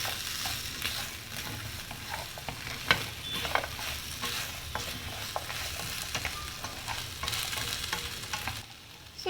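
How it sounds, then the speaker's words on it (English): Baby corn manchurian is tossed and stirred in a hot pan, with a continuous close sizzle broken by repeated scraping and jolting clatters as the pieces are flipped, easing off near the end. "If you are comfortable, tossing it like this, then you may do so."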